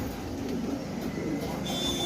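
Madrasi pigeons coo softly and steadily close by, a low continuous murmur of several birds with a faint background hum.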